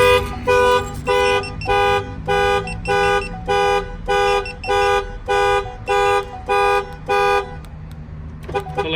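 A 2017 Chevy Silverado pickup's alarm, triggered by a door opening, honks in a steady, repeating pattern of loud tonal blasts, about a dozen evenly spaced, then stops.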